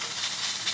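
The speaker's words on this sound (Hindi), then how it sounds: "इधर ये कुकर चल रहा है" Steady broadband hiss of steam escaping under pressure from a pressure cooker of palak gosht, continuous and fairly loud, with no other sounds.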